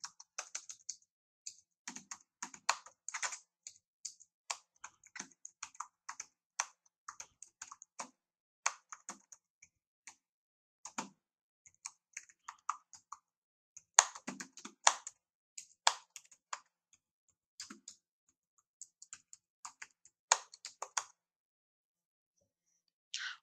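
Steady, fairly quiet typing on a computer keyboard, rapid irregular clicks of keys with short pauses between runs, close by and with no talking.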